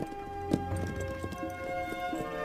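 Horse hooves clip-clop in a steady, uneven rhythm over a low background hum, with one sharper hoof strike near the start.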